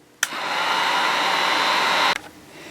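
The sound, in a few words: heat gun drying latex on a puppet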